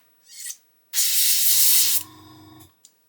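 An airbrush sprays primer in two bursts after a clogged, tip-dried nozzle is cleared: a short hiss, then a loud, steady wet blast lasting about a second with a low mechanical hum beneath, and a brief tick at the end.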